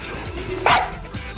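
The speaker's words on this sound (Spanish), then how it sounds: "Se trata del perro más obediente de todos los tiempos." A very obedient dog gives a single short, fairly close bark partway through, standing alone over faint room noise.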